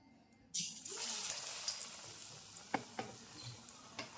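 Batter-coated paneer drops into hot oil with a sudden burst of sizzling that holds steady and close, punctuated by a few light clinks and taps, and no one speaking.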